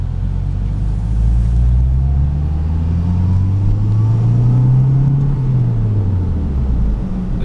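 Steady engine drone from a 2006 Mazda 6 fitted with an aftermarket cold air intake, its low pitch climbing as the car accelerates, easing off, then dipping again near the end; a continuous, fairly loud rumble with no talk.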